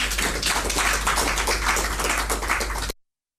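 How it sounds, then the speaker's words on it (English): An audience at a minister's address applauds with dense, steady clapping that runs evenly for about three seconds and then stops abruptly into silence. "And let's clap for NIMOS."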